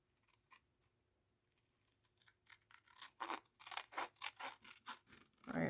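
Scissors snip around the edge of a three-panel paper craft project, quiet at first and then a run of louder, rhythmic cuts close by.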